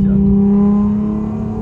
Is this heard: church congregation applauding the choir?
no